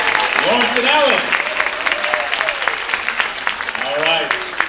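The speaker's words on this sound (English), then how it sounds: "a round of applause" A crowd at a special needs talent showcase claps loudly and steadily, with cheering voices rising over the applause.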